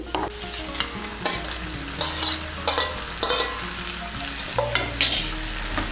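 Fried brinjal is stirred into potatoes with mustard and poppy seed paste in a hot pan, a loud continuous sizzle broken by repeated scraping strokes of the spoon, no speech.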